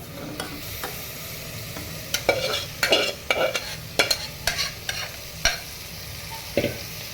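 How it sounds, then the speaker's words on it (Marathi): Food sizzling in a pot while a utensil stirs and scrapes in irregular bursts, close and fairly loud, with no talking. "हे बघा, आता चिकन आहे ते टाकत आहे."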